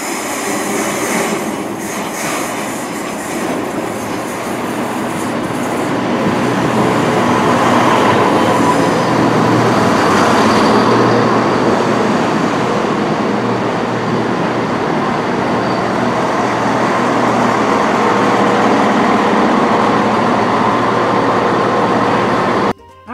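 A passenger train runs on the former Great Western Main Line out of Wolverhampton, its wheels and carriages giving a loud, continuous rumbling roar that swells and stays steady from start to finish.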